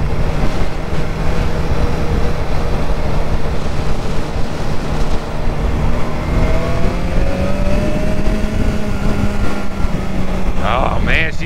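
BMW S1000XR motorcycle engine held around 6,000 RPM on the road, a loud continuous buzzing drone with rising pitch sweeps later, mixed with heavy wind rush and a rider talking over it.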